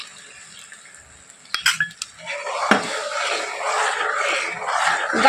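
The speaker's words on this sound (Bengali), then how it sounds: "আর কর্নফ্লাওয়ারটা দিয়ে কিন্তু অনবরত নাড়তে থাকতে হবে, নাহলে নিচে লেগে যাবে।" Milk with cornflour is stirred continuously in a pot for an orange payesh, opening with a few metallic clinks and then settling into a steady, close scraping swish that grows slightly louder toward the end, without speech.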